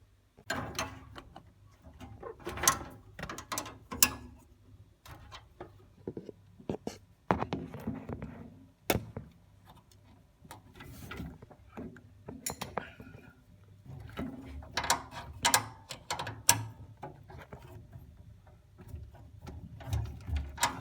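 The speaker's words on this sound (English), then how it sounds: "So that was a 10mm spanner" A 10mm spanner works on brass diverter fittings of a Vaillant Turbomax 242 boiler, giving close, irregular metallic clicks, taps and ratcheting scrapes in short bursts, with quiet speech in between.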